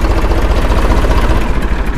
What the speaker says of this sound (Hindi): 3 सिलेंडर ट्रैक्टर है स्वराज कंपनी का, और लगभग 50 या 52 HP होगा।